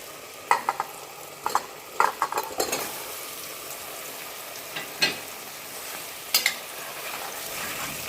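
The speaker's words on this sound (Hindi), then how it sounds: "अब इसमें हम आलू डालेंगे।" Potatoes stirred in spiced oil with chili powder for zeera aloo, faint frying hiss beneath several distinct spoon scrapes and clinks against the pan, coming in short irregular clusters.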